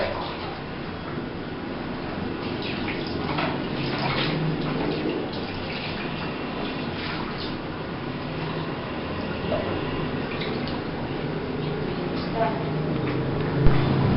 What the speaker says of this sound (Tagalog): after we rinse the solution, rinse with clean water